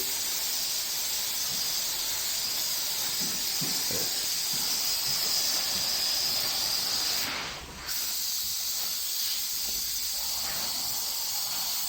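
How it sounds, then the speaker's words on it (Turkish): A spray gun applying primer to a jeep hisses loudly and continuously, then stops briefly near the end before the steady airy spray resumes. No one speaks. "Şu anda astar işlemi yapılıyor."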